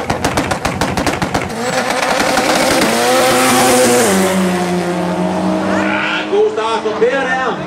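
A Ford Escort drag racing car roars down the strip, a loud engine note climbing through the run and fading slightly near the end, with a commentator talking over it.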